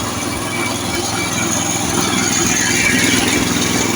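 Hybrid walk-behind tractor tilling fallow soil, its small engine running steadily with a continuous, fairly loud mid-pitched drone and rattly churning throughout.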